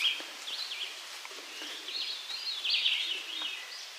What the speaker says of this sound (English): There's the veery.